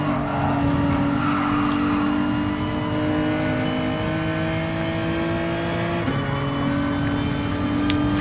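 A McLaren race car in a racing video game screams along at high revs under constant engine drone, shifting gear once midway.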